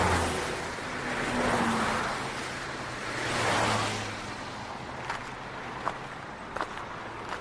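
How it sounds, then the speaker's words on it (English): Cars pass over a bridge in two soft, distant swells of tyre and engine noise over a steady outdoor rumble, followed by a few faint scuffs and taps. "We walked to the edge of the bridge and waited for the cars to pass."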